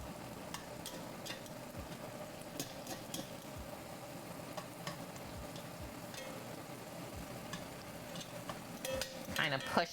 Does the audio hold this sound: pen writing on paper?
no